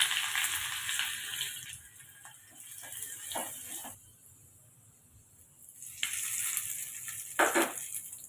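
Crackling, popping sizzle of mustard seeds and cumin frying in hot oil for tomato chutney, rising and falling in busy bursts, close by with no talking.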